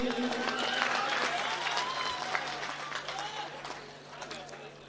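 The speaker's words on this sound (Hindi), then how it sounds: "जरा तालियां बजा दीजिए इनके लिए।" An audience claps steadily for an arriving guest at a poetry gathering, a dense continuous round of applause with some crowd murmur, fading slightly toward the end.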